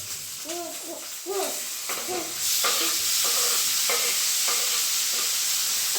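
Tomatoes dropped into hot oil for a mushroom curry, a loud steady sizzle of frying that swells and holds, with scattered stirring scrapes and a few voiced sounds in the first seconds.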